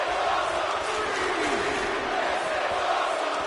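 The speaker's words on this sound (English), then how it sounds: "The crowd showing their approval." A wrestling crowd roars in approval after a torpedo DDT on the outside, a dense, steady wall of cheering and shouting that fills the arena without a break.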